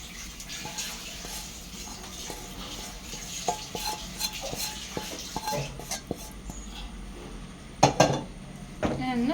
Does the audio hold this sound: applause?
no